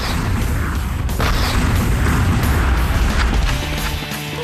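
Rocket-launcher explosions in the cartoon-style video game Nitro Family, heavy booming blasts rolling one into another in a loud, dense, continuous barrage with no speech over it.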